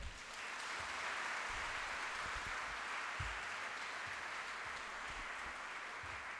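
An audience at a school blessing ceremony gives its teachers a huge round of applause, a dense, sustained clapping roar that holds steady and fairly distant for several seconds.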